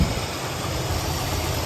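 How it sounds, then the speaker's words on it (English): A Mercury Zephyr's engine idles steadily with a broad hissing rush from a vacuum leak over the low rumble, close and continuous, no voices. "that vacuum noise is coming from in there"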